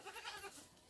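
Goats bleat behind a house in Nepal, a short wavering cry of one or two animals, fairly faint and close with no talk over it.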